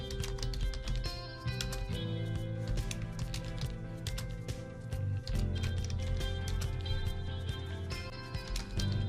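A name being typed on a computer keyboard, with rapid clicking keystrokes in a steady stream and brief pauses. Soft background tones sit underneath.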